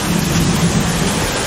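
Hurricane Gordon in Pensacola in 2018 driving heavy rain sideways, a dense steady roar of wind and downpour filling the clip continuously with no pauses or voices.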